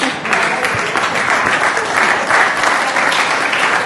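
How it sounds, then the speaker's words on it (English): Steady, full applause from a conference audience, continuous and fairly loud throughout with no speech over it. "That deserves another round of applause."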